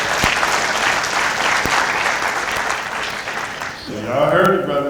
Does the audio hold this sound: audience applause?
yes